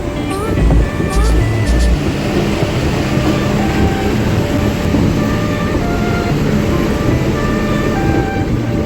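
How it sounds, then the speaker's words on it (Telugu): A train rolls past near the beach at Tuni with a continuous, fairly loud rumble and rattle. People talk over the noise the whole time. "రైలు కూడా పోతుంది."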